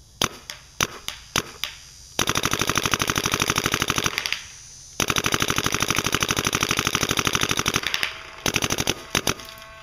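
A paintball marker, a Luxe and a clone VX, fires at a tree outdoors: a few separate pops open the clip, then two long, fast, loud bursts of rapid shots, with single pops again at the end.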